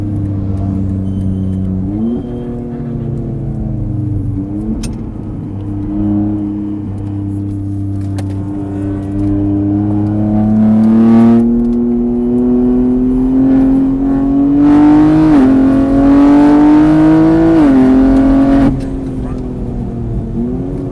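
In-car engine of a Caterham race car at the Mireval circuit, droning loud and close, its pitch climbing through repeated gear-by-gear accelerations with brief lifts between shifts.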